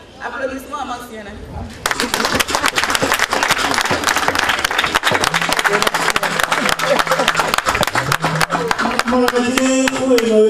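Applause from the audience at a UDBN political party congress bursts in after a brief voice and continues as dense, loud, sustained clapping to the end.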